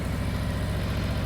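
A motorcycle engine held at a low, steady 1,500 to 2,000 RPM, a close, even rhythmic throb that pulses without change for about a second, with no voices.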